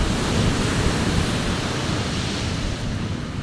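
Ocean surf at Gumuk Kancil beach, Indonesia, rolls in a continuous, loud wash of broadband noise, steady throughout with no voices.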